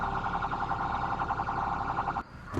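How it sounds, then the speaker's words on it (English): Police car siren wailing loud and close in a steady repeating cycle, then cutting off abruptly near the end, followed by a brief clunk. "Now, if I put the sirens on,"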